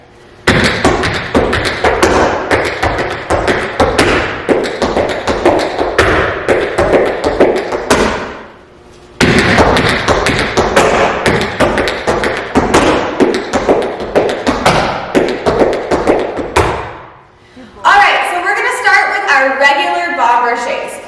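Tap shoes beat out bombershay steps in quick, loud, continuous rhythmic clatters in two long runs separated by a short pause, followed by a burst of music near the end.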